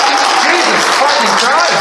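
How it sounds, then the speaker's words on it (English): Audience applause at a furry idol singing contest, a short burst of dense clapping mixed with voices and cheering from the crowd. "One more round of applause for him, please."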